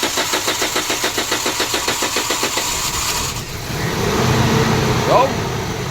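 A Toyota Fortuner with a hard-starting fault cranks in a rapid rhythmic churn for about three seconds, then catches and settles into a loud, steady running hum, close by.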